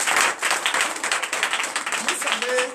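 A congregation at a night deliverance and prophecy service claps and cheers, a busy, loud crowd sound with voices mixed into the clapping throughout.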